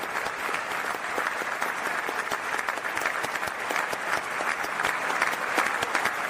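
Sustained applause from a large commencement crowd honoring graduates, steady dense clapping throughout at moderate level with no distinct voices over it.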